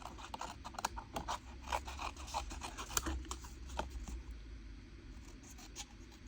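Scissors cut through handmade paper scrap labels in quick, quiet snips and rustles, with soft scraping sounds close by.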